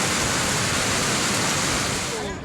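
Strong, continuous rush of floodwater pouring from an overflowing creek during a flood, a loud broadband roar that holds steady before easing slightly at the end.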